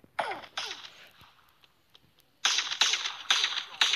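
Toy pistol shots in a mock gunfight, several sharp close cracks coming in two bursts, a few spaced pops first and then a denser run of loud snaps after a quiet gap.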